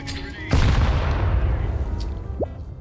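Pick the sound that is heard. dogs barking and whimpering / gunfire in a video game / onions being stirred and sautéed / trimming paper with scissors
gunfire in a video game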